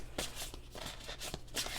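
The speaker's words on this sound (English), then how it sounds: "it's always good to give them a shuffle" A thick deck of Shaman's Dream oracle cards is shuffled by hand, producing quick riffling bursts in a soft, close rhythm with no talking.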